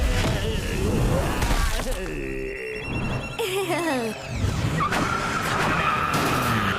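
Cartoon zombies' cars skid and screech in a loud animated chase, with tyre squeals and engine noise layered under music and dramatic effects.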